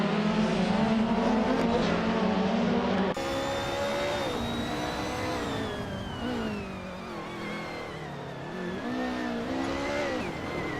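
A 1999 Nissan Primera P11 race car in a racing video game, its engine droning loud and continuous, pitch rising and falling through gear changes, with other engines mixed in.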